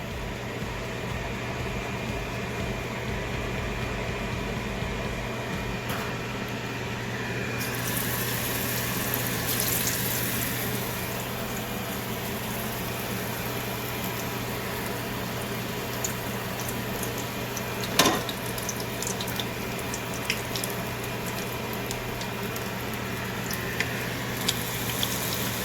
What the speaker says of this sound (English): let's go ahead and fry up some of this food here